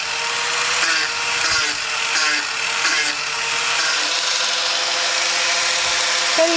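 Power tool sanding a fiberglass joint on a boat's aft deck during a repair, giving a steady, continuous whirring grind with slight pitch changes, close and fairly loud with no voices.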